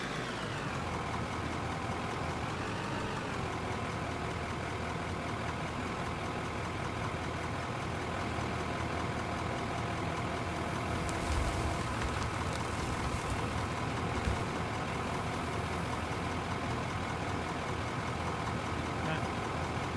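Mining machinery engines running in the game Out of Ore, a steady droning hum with a shifting whine, continuous and fairly close, with brief clanks partway through.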